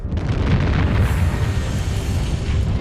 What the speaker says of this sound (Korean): 첫 폭발이 일어나고 잠시 뒤 거대한 폭발이 일어났다